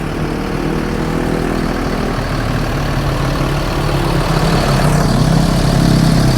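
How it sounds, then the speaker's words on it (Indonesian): A TAM Execu bus engine idling smoothly, a steady low rumble with a constant hum throughout, heard from inside the bus with faint background noise. "Nih kita dengarkan suara mesinnya. Suara mesinnya sih halus banget teman-teman."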